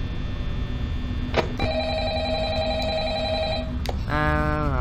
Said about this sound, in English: Another phone call.